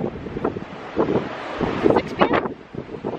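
Strong wind buffets the microphone on Hawaii's North Shore in the evening, a steady rumbling roar with gusty swells, while a voice talks briefly over it.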